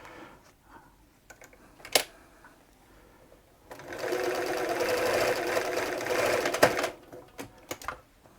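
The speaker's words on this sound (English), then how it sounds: "They are a little bit noisy, a bit clacky, clunky, these machines, when the needle positioning and the needle stopper is coming in." A Bernina 930 Record electronic sewing machine, a clacky, clunky model, gives a few scattered clicks and knocks before a loud continuous run of several seconds, then stops with more clunks of the needle positioning and stopper.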